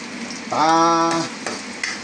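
Mussels sauté in a hot pan and are stirred, giving a steady sizzle with scraping, stirring strokes and a short tonal squeak partway through; the sound is close and no one speaks.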